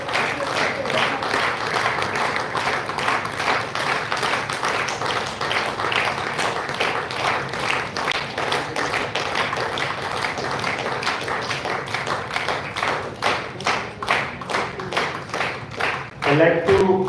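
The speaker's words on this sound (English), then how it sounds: "Have a huge round of applause for Mr. Vijay Kumar Sahu from A2R, one of our sponsors." An audience at a live event applauds a sponsor on stage, with dense sustained clapping from many hands that thins into separate claps near the end.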